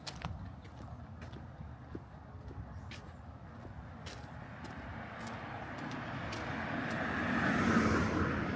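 Cars drive by on a street, making a continuous wash of traffic noise with scattered clicks that swells louder as a vehicle approaches near the end.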